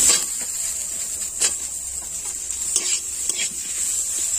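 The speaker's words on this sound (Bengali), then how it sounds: "এবার আমি দিয়ে দেবো পেঁয়াজ" Chopped onion and green chilli stirred in a dry pan with toasted cumin, close scraping strokes of a spatula against metal over a light crackle, repeated every second or so.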